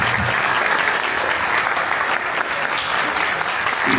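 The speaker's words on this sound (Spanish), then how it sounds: "Un aplauso a Aranza, por favor." Audience clapping at a book presentation: a steady, dense wash of applause from a full room, loud and sustained throughout with no pauses.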